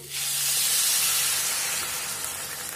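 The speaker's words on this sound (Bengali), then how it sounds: "এখন আমি পরিমাণ মতন জল দিয়ে দেব।" Water poured into a hot pan of simmering soyabean curry gravy sets off a loud, steady hiss and sizzle that rises almost at once and holds for a few seconds, with no talking.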